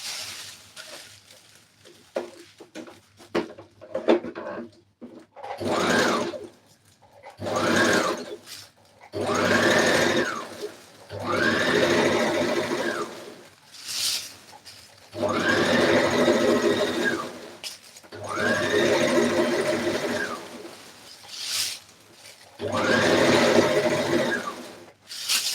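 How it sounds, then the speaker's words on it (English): A sewing machine runs a straight gathering stitch on a stylish dress in repeated whirring bursts of a few seconds each, separated by short pauses, close and loud, with no talk. "let me just make a straight stitch and gather"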